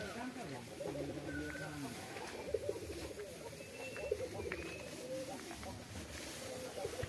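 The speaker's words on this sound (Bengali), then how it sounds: "আমাদের এই জায়গায় কবুতর পালি, দেশ গ্রামে বক বকুম কয়।" Pigeons kept on a farm coo in a low, repeated burble through the background while someone talks nearby over the steady murmur.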